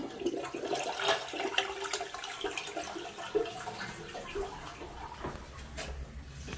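A household toilet flushes in a bathroom, water rushing and gurgling loudly for several seconds as the bowl drains and the tank begins to refill, with no talking.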